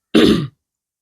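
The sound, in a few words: cough and throat clearing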